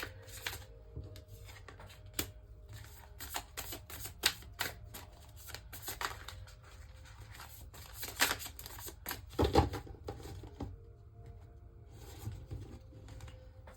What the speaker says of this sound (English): I just feel like I don't know what's going to come out of this deck right now. The way it's shuffling